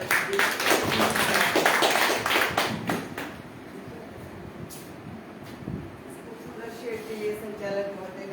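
An audience at a stage event claps loudly for about three seconds. The applause then fades into a quieter room while a person begins speaking.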